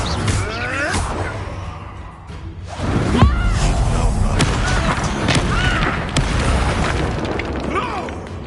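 Confringo spell explosion in Hogwarts Legacy, a deep boom with a whoosh and crackling burst a third of the way in, followed by sustained rumbling combat noise and a voice speaking over it.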